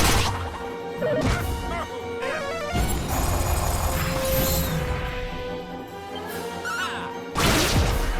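An explosion strikes a single enemy in the video game Dragon Quest III HD-2D Remake, with crashing, whooshing battle effects layered over game music, bursting loudly at the start and again at the end.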